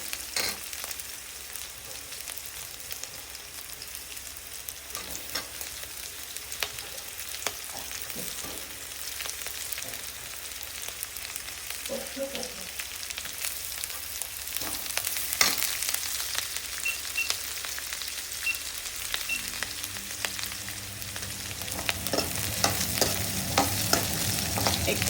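Green chillies and garlic fry in a pan while being stirred, a steady soft sizzle running throughout with occasional scraping clinks, growing slightly louder toward the end.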